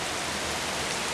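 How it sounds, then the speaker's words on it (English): Heavy rain falls outside in a dense, steady, unbroken hiss that fills the whole moment, loud and close, with no talk over it. "Oh, that's really raining out there."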